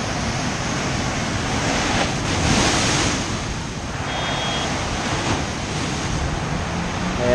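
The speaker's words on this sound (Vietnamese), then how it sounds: "Trời, sóng cuồn cuộn không?" Rough sea waves break at Nha Trang beach in strong wind ahead of a storm, a loud continuous wash of surf with gusting wind swelling and easing across the whole stretch.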